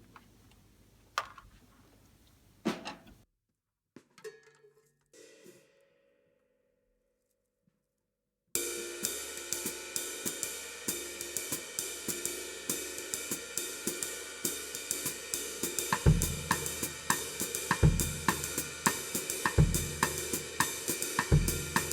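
Sparse faint taps and a long near-silence come before a basic drum kit groove starts, loud and dense, with steady cymbal strokes over regular kick and snare hits that continue to the end.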